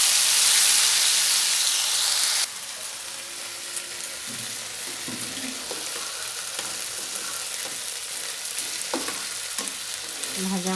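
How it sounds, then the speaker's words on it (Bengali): A ginger and chili paste fries in a pan with a steady, close sizzle and hiss, occasional stirring scrapes, and a louder burst of spattering at the start. "পেস্টটা দিয়ে ভালো করে ভেজে নেব।"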